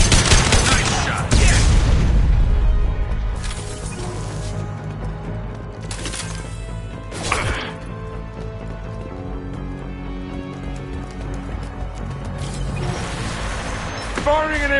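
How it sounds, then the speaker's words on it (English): Sci-fi weapon fire in the video game Mass Effect 2, including an impact shot, comes as sharp bursts and scattered shots over game music and ambience, with voices speaking between the blasts. "Firing an impact shot."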